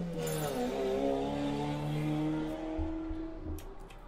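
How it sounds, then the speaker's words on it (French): Motorcycle engine droning steadily close by, a rising and falling harmonic whine that holds for about three seconds before easing, loud and continuous with no talk over it. "Pardonnez ce bruit de moto."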